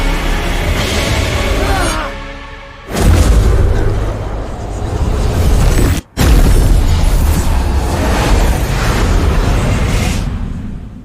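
A deep booming explosion erupts in the video game Kena: Bridge of Spirits, loud and rumbling, with a sustained roaring blast that cuts out briefly before continuing, and speech-like game sounds mixed in.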